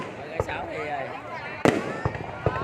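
New Year's Eve fireworks in Ho Chi Minh City crack and boom in several sharp bursts, one especially loud, with people chatting close by throughout.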